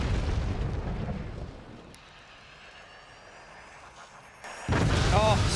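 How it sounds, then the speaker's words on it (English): Rocket volley explosions in the artillery strategy game Forts, a rumbling blast that fades into a quieter hiss, then a sudden loud burst of impacts near the end. "Another rocket volley coming in from Hallow."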